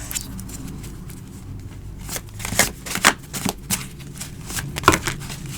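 A deck of tarot cards is shuffled close up, making irregular riffling bursts and soft slaps that grow busier after the first couple of seconds, with no voices.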